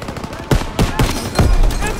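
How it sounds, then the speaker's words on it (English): Machine-gun fire in the World War II shooter Call of Duty WWII comes as sharp, close bursts of rapid shots, several cracks in quick succession within two seconds. "MGs are tearing us up!"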